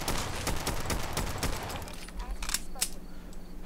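A .45 weapon fires in a Fallout Nuka-World game as rapid shots crack in quick succession for about two seconds, then a few sparser bangs follow, with someone talking over the shooting.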